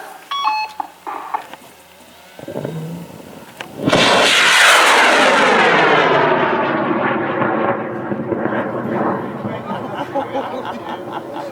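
Liquid-fuel rocket engine static test firing by a university team, roaring in with a sudden loud broadband blast after a countdown and sustaining a steady, powerful rumble to the end, with brief voices and beeps beforehand.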